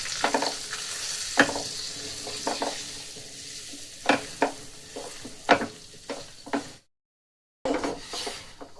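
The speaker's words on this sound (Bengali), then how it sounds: "আমি এটাকে দিয়ে দিলাম দিয়ে একদম লো ফ্লেমে এটাকে ভাজতে থাকবো" Flour frying in ghee over a low flame for a sweet, a soft continuous sizzle with intermittent spatula scrapes and stirs, close by, then a brief drop to silence near the end.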